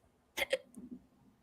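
Two quick, sharp hiccups from a person come close together, followed by a soft murmur, all quiet and brief in an otherwise calm room.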